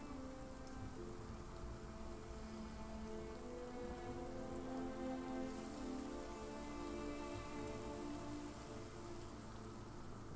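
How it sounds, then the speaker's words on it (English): Steady rain in the video game Lost Ark patters across a surface with a low rumble underneath, continuous and fairly quiet throughout, with no voices. "And there was rain."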